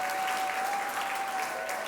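Congregation applauding during a Korean Sunday church service, a steady dense wash of clapping from a crowd filling the whole moment, with a faint sustained tone running underneath.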